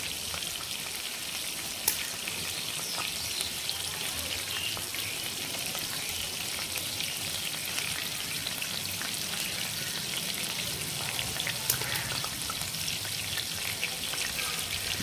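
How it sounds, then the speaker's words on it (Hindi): Steady, close sizzling and crackling of mutton tikka frying in hot fat on a tava, continuous with small pops and no voices. "अपना सिजल कर रहा है ना एकदम बढ़िया से"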